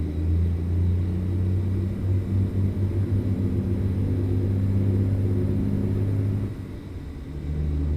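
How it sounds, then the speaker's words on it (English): An old truck's engine in American Truck Simulator drones with a deep, steady low rumble, loud and close, easing off briefly near the end before picking back up, with no talking. "That old truck sounds good, don't it?"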